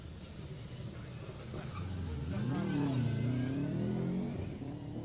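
Ford Mark II Escort rally car on dry asphalt at a Jersey rally, approaching and revving hard as it passes, the engine note swelling loud then fading, with faint voices underneath.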